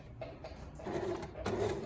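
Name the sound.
sewing machine stitching fabric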